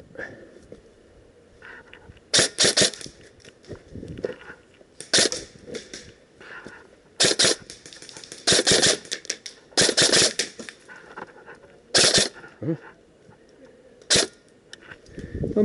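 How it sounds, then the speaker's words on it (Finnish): Airsoft guns firing during an outdoor airsoft game in Kakskerta, Finland, heard as repeated sharp cracks in quick bursts and pairs, some close and loud, with occasional speech between them. "Ampu välillä kaksi laukausta kertaa."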